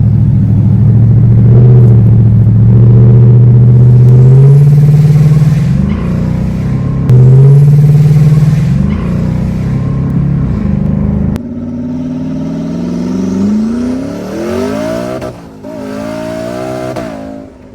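A Ford S197 Mustang accelerates hard down a drag strip, its engine rumbling loud and close as the revs climb through successive gears, with the roar rising and falling in pitch until it pulls away near the end.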